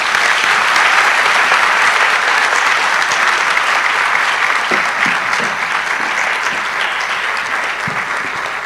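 Sustained audience applause fills a hall at an induction ceremony for newly qualified medical and dental practitioners, a dense, steady roar of many hands clapping at close range, holding loud and even throughout.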